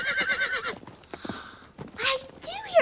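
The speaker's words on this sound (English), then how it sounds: "I do hear horses right now." Horses near a castle neigh in shrill whinnies and clip-clop on their hooves, close and clear, with people talking over and between the sounds.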